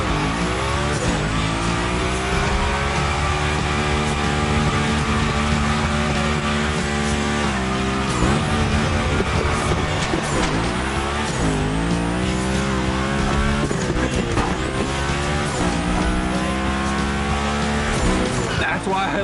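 Car sliding and drifting through a Gymkhana course, engine revving and wailing continuously with tire squeal as it powers through turns, loud and close throughout, with no pauses.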